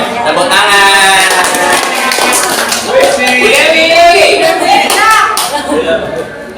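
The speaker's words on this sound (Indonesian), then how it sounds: "Iya, tepuk tangan." Workshop participants clap together in a room, a dense run of hand claps mixed with overlapping voices and chatter lasting several seconds.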